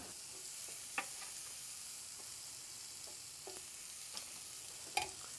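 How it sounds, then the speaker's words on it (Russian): Eggplant slices frying in oil in a pan give a steady, soft sizzle with a few small pops and clinks, heard up close and alone. "Выкладываем баклажаны на сковородку."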